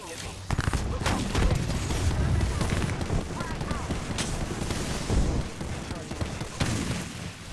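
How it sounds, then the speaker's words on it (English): Sustained, dense gunfire from enemies in Apex Legends Season 15 fills the whole stretch, rapid overlapping shots and impacts loud and continuous with occasional heavier booms. "The enemies are shooting at me"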